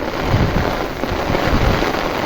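Heavy rain pours down in a continuous loud hiss with drops drumming on surfaces nearby, dense and unbroken throughout.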